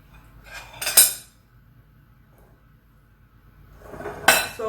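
A metal spoon clinks against a baking dish twice while spreading apple crisp topping, two bright scraping clanks separated by a quiet stretch.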